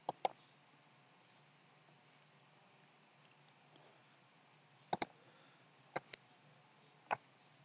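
Computer mouse clicks on a Windows Server machine, sharp and faint, come in a quick double click, then a later pair and two single clicks over quiet room hiss.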